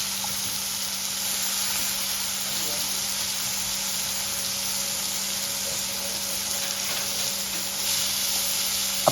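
Fish frying in a hot pan as it is flipped to cook the other side, a steady dense sizzle running loud and unbroken throughout.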